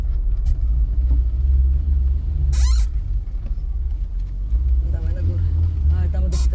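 A 1985 Soviet Lada driving off-road rumbles loudly with a steady low engine and road drone, overlaid by squeaks and creaks from the loose body and steering, with speech in places.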